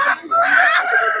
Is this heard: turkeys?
yes